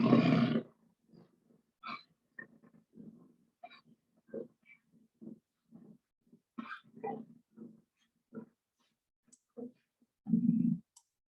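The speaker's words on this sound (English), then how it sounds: "That was the sound of a jaguar," A jaguar, the black panther, gives a string of short, low, rasping grunting calls, each a separate cough-like burst in an uneven rhythm, sitting close and fairly loud with a heavier roar at the start and end.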